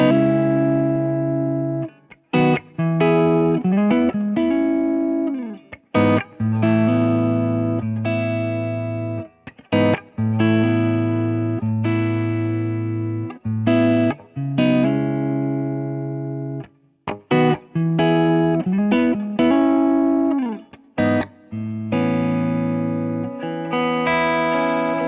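An electric guitar played through a neural amp capture of a clean amp setting, a run of clear sustained chords and notes with short pauses between phrases, loud and up front with no talk.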